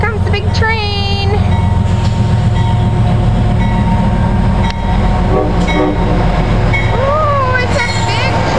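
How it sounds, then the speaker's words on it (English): A big train pulls into a station with a loud, continuous low rumble of rolling wagons, squealing wheels and a brief horn-like tone near the end. People talk nearby over the noise. "Here comes the big train."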